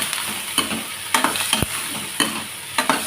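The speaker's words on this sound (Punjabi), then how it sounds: "ਇਸ ਤਰ੍ਹਾਂ ਹੀ ਭੁੰਨ ਕੇ ਤੇ ਮਿਰਚ ਮਸਾਲਾ ਪਾ ਕੇ ਸਿੱਧੇ ਜਿਹੇ ਤਰੀਕੇ ਨਾਲ ਬਣਾਵਾਂਗੇ ਆਪਾਂ ਇਹ ਸਬਜ਼ੀ" Vegetables being stirred and roasted in a pan, a continuous sizzle punctuated by repeated scraping strokes of a spoon, one sharper knock midway, close and clear with no voices.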